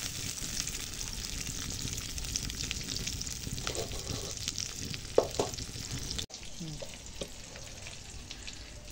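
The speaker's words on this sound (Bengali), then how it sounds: "এখন কড়াই তেল দিয়েছি, এখন হিং দেবো, এরপর এখানে দেব কাঁচা লঙ্কা, আদা বাটা," Asafoetida, green chili and ginger paste frying in oil in a wok, a dense continuous sizzle with a few stirring clacks near the middle, no talk.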